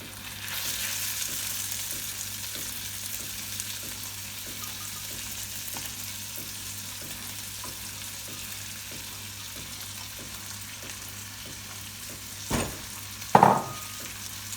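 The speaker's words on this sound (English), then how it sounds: "a couple of minutes, we're just going to dry roast these" Basmati rice, about 250 grams, dry roasting in a pan for an Indian restaurant style pilau, giving a steady soft rustling sizzle with faint regular stirring clicks and two brief louder knocks near the end; no talk.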